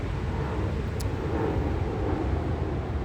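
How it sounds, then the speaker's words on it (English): An airplane passes overhead above a park bench near a fountain, heard as a steady low, distant rumble with a windy roar and no voices. "there's a plane flying overhead"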